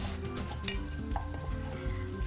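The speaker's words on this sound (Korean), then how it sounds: "쌀이 늘러붙지 않게 계속 저어주시면서 볶아주세요" Rice is stir-fried in a pan over gentle heat, making a continuous soft sizzle broken by scraping and stirring from a utensil, with no talk.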